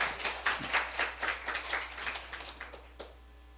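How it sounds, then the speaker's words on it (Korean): A church congregation claps together during a Monday morning service, a quick run of hand claps rising and then thinning out over a few seconds before trailing off. "갚아주는 주님께 박수 한번 해주세요"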